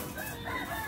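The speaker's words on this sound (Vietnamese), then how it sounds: "Rồi ngoài đây có gà nữa mọi người ơi." A rooster crows outdoors in a Vietnamese yard, a short, raspy call that is moderately close, with no talking over it.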